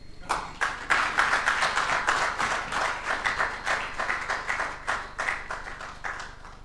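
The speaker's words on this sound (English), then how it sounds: "Have we finished clapping?" Rhythmic, unison clapping from an audience at an annual ethics lecture, steady and moderately loud throughout with slight swells, no voices over it.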